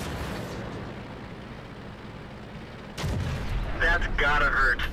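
A tank cannon fires in World of Tanks: a single loud boom cuts through steady engine rumble, followed by a lingering metallic ringing, with a voice talking over the battle noise.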